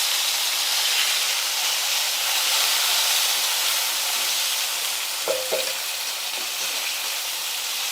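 Chopped tomatoes go into a hot pan of spices for Uttara Karnataka shenga saaru, a steady broad sizzle and hiss throughout with a couple of brief clinks of a utensil midway.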